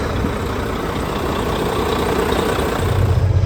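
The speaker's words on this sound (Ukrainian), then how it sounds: "Машина завелась нормально." A truck engine idles just after starting, a steady, close low rumble that holds even throughout with a slight rise in throb toward the end.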